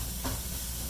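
Eggs for a stuffed omelette cooking in a pan over a lowered flame, giving a steady, soft sizzling hiss with a brief flare of crackle, close by with no talking.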